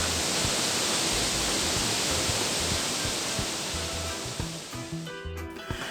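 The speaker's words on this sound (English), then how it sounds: "the river is swollen and runs rapidly in the Una Valley of the national park" The swollen Una River in Bosnia's Una National Park rushing rapidly in autumn, a loud steady broadband roar of fast water that eases slightly toward the end.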